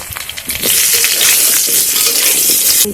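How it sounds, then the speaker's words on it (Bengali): Potato pieces frying in hot oil in a pan for a Bengali cauliflower-and-potato dish, a loud steady crackling sizzle that swells and holds close up. "আলুগুলোকেও ভালো করে ভেজে নেব"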